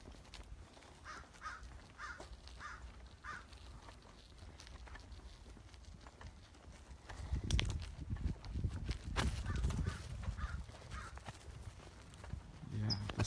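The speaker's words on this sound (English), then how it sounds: "The crows are squawking." Crows caw repeatedly in a burned-out residential neighborhood after a wildfire, with distant rhythmic calls over low outdoor rumble and footsteps, and louder wind or handling noise in the second half.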